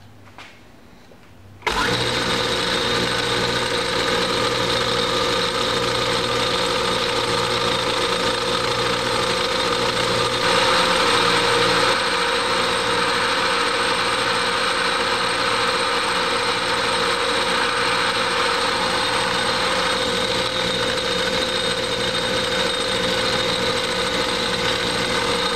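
A machine starts up sharply and then runs at a steady, loud, even hum while a taper is fed into a quarter-inch bit held in a collet, with no voices.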